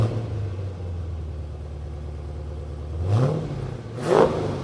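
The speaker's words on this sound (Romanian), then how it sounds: "avem două evacuări reale care se aud absolut demențial" A Dodge Challenger Scat Pack with a 6.4-litre V8 and dual real exhausts idles with a low rumble, then blips its throttle twice in short, loud revs near the end.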